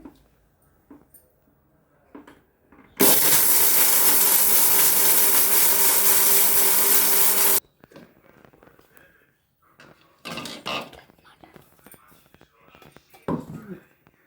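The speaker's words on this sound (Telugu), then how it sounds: "ఇప్పుడు మనం మిక్సీ పట్టుకుందామండి" A mixer grinder coarsely grinds roasted biryani masala spices in its jar, a loud steady whirring roar lasting several seconds, with quiet handling noises and clatter before and after.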